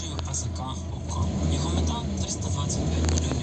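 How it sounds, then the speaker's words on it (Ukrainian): A 2015 VW Golf VII GTD with a 184 hp 2.0 TDI diesel and six-speed DSG automatic is revved at a standstill, its low diesel rumble swelling briefly under someone talking. "Трошки погазуємо. Ах, люблю цей звук."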